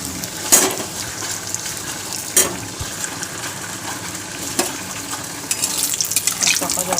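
Panch phoron five-spice tempering frying in hot oil in a pan, a continuous low sizzle with a few sharp crackles and stirring scrapes, close and moderately loud.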